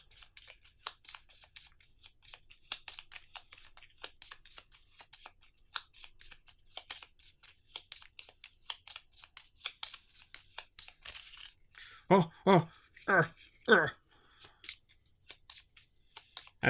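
Rapid crisp riffling of Magic: The Gathering cards being shuffled, close up, followed by a few slower rubbing and sliding card sounds.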